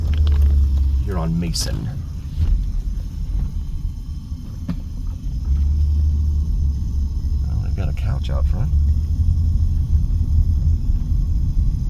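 A car drives slowly through the historic McNeil Estates neighborhood of Las Vegas, a steady low road rumble continuing under someone talking throughout.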